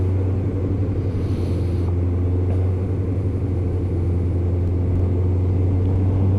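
A Suzuki GSX600F motorcycle lugs along in a very low gear, a deep steady engine rumble with a faint whine, heard close up with wind noise and no talking.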